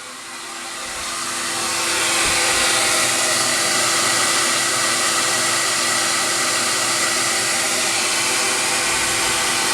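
A CamVac dust extraction system runs with a steady, soft, broadband whoosh that grows louder over the first couple of seconds as it comes closer, then holds an even, continuous level with no talking.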